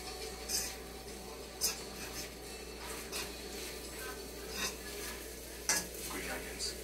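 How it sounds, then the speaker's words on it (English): Spicy vegan noodles with tofu sautéing in a pan over medium heat, giving a steady soft sizzle with occasional louder utensil scrapes and clinks from stirring, close by and without talk. "Turn heat up to medium and saute for 2 to 3 minutes."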